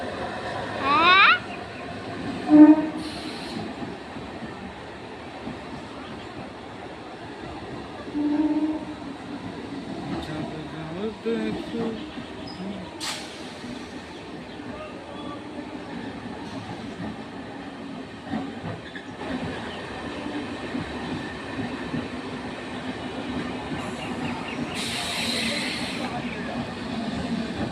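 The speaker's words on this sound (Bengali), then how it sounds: "দেখেছো? কোথায় চলে গেল ট্রেনটা?" A train rolls past at Badkulla railway station in the morning, a long steady rumble of wagons with faint clatter and a few sharp knocks, heard from nearby under occasional voices.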